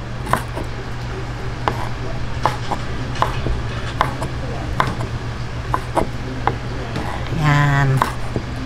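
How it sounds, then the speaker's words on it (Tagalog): Knife chopping crispy pork into bite-size pieces on a board for sisig, a steady series of sharp taps roughly every half second over a background hum. "hihiwain ko lang po ito ng maliliit"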